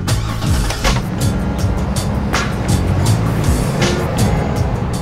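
A car fitted with hand controls for brake and gas pulls away, its engine rumbling low and steady up close for about five seconds, with no talking.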